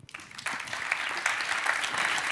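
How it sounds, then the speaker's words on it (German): Audience applause fills a panel hall at an education summit on games in schools, a dense, steady clapping that swells slightly and holds at a fairly loud, even level throughout. "das ist euer Applaus."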